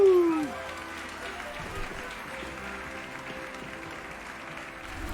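In Hogwarts Legacy, a crowd claps steadily during a sorting-style ceremony in a great hall, a diffuse patter of applause that follows a brief loud voice at the start and continues evenly at a moderate level.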